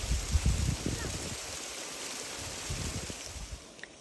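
Irrigation water runs through a village farm field at night, a steady broadband rush with low gurgling surges, close and continuous across the clip.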